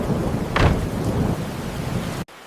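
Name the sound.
thunderstorm with heavy rain sound effect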